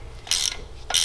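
A ratchet wrench clicks in two short, bright bursts while loosening a nut on the front wheel hub of an E9x xDrive BMW. The bursts are close and loud over a quiet garage background.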